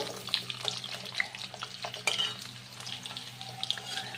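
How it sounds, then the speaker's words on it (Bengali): Potatoes fry in hot oil in a pan, giving a soft sizzle under scattered scraping and clinking of a spatula stirring them, fairly close with no talk. "ওই আশি তেলে আমি এখন আলুগুলো ভাজা করে নেব"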